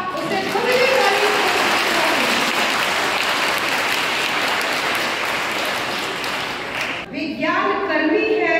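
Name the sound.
audience applause for teachers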